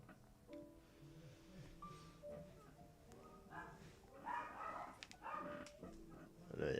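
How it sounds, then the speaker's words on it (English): Dogs bark, yip and whimper in a home, faint and somewhat distant, in scattered bursts that grow a little louder toward the end. "I know you can hear my dogs"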